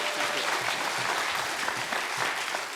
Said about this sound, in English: So if you give him a big round of applause